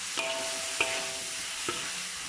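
Prawns and other ingredients being sautéed in a pan for a prawn curry Maggi dish, a soft steady sizzle broken by three sharp scraping stirs of a spatula against the pan.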